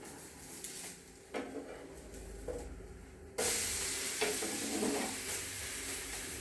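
A potato dhirde pancake on a pan is flipped with a few clanks and scrapes, then sizzles up sharply into a loud, continuous hiss. No one speaks.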